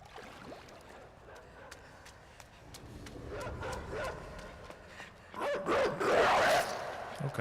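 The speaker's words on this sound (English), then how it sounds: "Those are awful dog sounds." Dogs in the video game INSIDE bark and yip in short bursts across the scene, growing louder and denser near the end, with splashing and game ambience beneath.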